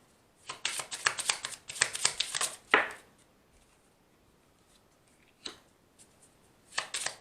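Tarot cards being shuffled by hand for a card draw, heard as several quick, crisp riffling bursts close up with pauses between them, fairly quiet overall and without speech.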